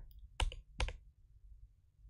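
Two distinct key clicks on a computer keyboard, crisp and close, spaced a moment apart in a quiet room.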